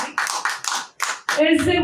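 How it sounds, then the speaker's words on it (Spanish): Church congregation applauding, heard as a few separate bursts of clapping close by, broken by short gaps, with a voice speaking over the end. "Denle un fuerte aplauso al Rey de Reyes."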